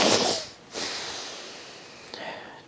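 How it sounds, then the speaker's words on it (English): Nasal breathing, a couple of airy breaths drawn in and pushed out through the nose, close to the microphone, with a short sniff near the end and no talking. "Breathe through your nose."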